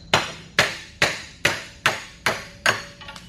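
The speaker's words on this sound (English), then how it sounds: "I try and talk between your hammering." Hammer blows on a Honda CRX wheel hub while wheel studs are driven out, six sharp metallic strikes in a steady rhythm about half a second apart, close and loud, with no voices.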